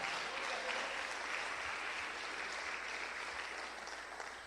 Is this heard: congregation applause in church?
yes